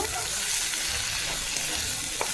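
Ghugni masala sautéed with chana masala in a pan crackles and sizzles loudly and continuously, heard up close with stirring scrapes mixed in.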